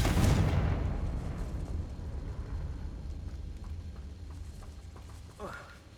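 An explosive spell blast in the video game Hogwarts Legacy, a loud close boom at the start decaying into a long rumbling tail, with a brief whooshing effect near the end.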